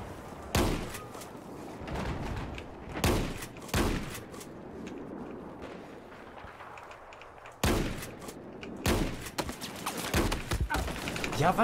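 Battlefield 4 combat with loud bursts of gunfire, short volleys and single heavy shots separated by gaps, and a fusillade near the end, with rustling and background game noise between them.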